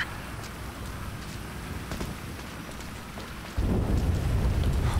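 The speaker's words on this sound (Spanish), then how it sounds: "está lloviendo brígido en esta vez" Heavy rain and rumbling thunder in the video game GTA V, a continuous downpour that swells louder near the end, with no talking.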